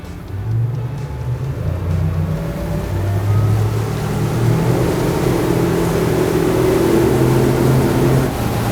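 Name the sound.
motorboat powering up onto plane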